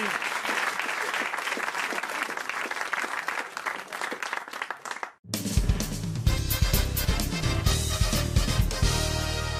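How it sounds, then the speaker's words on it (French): Studio audience applause for a contestant on a French radio comedy game show, sustained dense clapping for about five seconds before cutting abruptly into a loud burst of music and cheering. "Allez, bravo Daniel, on vous applaudit"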